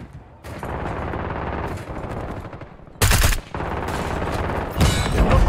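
Rapid automatic gunfire rattles in a shooter video game, loud and close, with sustained bursts broken by brief pauses and a sharper volley near the end.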